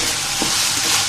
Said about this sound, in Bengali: দেখুন আমি এখানে আলুগুলোকে ভেজে নিচ্ছি।